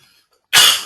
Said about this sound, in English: Oh, this cough is killing me.